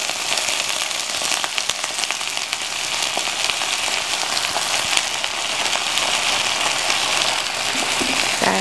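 Chicken fries in a pan with soy sauce, giving a dense, even sizzle and crackle that holds steady and fairly loud from start to finish with no talking.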